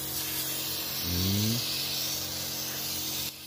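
A hand water sprayer hisses steadily while a car's air conditioning unit is cleaned, a continuous close spray with a brief low droning tone partway through and one short spoken word.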